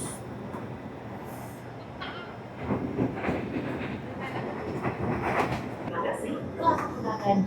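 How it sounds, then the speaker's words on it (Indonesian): Rumbling Indonesian commuter train rolling along rails toward Bogor, a steady rattling drone that grows louder and busier partway through, with muffled voices underneath. "Menggunakan jasa kereta komuter Indonesia."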